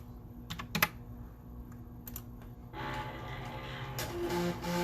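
A vinyl cutting machine slicing through a decal design with very thin lines gives a few sharp clicks at first, then a steady whirring motor hum with carriage movement building toward the end.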